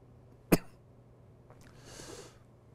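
A Buddhist monk giving a lecture lets out a single sharp, close cough, followed by a soft breathy exhale in a quiet room.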